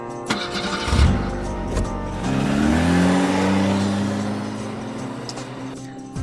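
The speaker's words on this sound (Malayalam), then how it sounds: "അവൻ കാർ സ്റ്റാർട്ട് ചെയ്തു." A car engine cranks and catches with a thump, then revs up into a rising, sustained hum as the car drives off, fading gradually at the end. It is a dramatized story sound effect with no speech.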